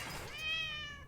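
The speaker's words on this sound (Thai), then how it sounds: "อ่ะแมว" A single short cat meow, clear and fairly close, rising then falling in pitch.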